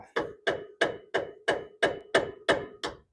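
Nine sharp metallic taps at a steady, roughly three-per-second rhythm on a brake part of a 1946 Hudson, each strike ringing briefly, close and fairly loud with no talking.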